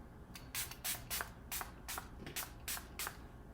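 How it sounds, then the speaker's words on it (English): A face mist spray is pumped about ten times in a loose, quick rhythm, each close, hissy burst standing alone over quiet background. "let's spray our face"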